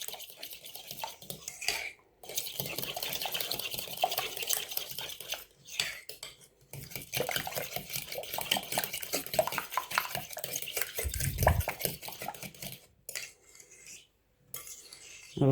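A utensil stirs and whisks an egg mixture for a leek quiche in a bowl, steady rapid clinking and scraping against the sides, running nearly continuously with a few short pauses, close and fairly loud with no talk.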